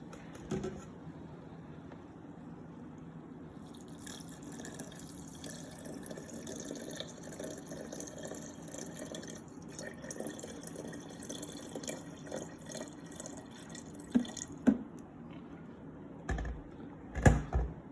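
Water poured steadily onto kitchen scales while making a tomato and red lentil dahl, a continuous close trickling wash lasting most of the time, ending with a few sharp clicks and knocks.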